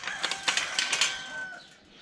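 Several baby chicks and chickens cluck and squawk briefly nearby, a quick burst of bird calls that fades out.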